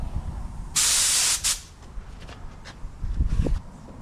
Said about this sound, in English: Just spray both sides of it.